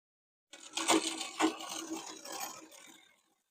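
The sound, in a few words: sewing machine stitching trouser fabric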